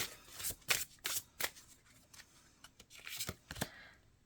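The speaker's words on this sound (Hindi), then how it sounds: "एक कार्ड और निकालेंगे हम" Tarot cards shuffled and drawn during a reading, a run of short crisp riffling and snapping bursts, close and fairly quiet, with no talk.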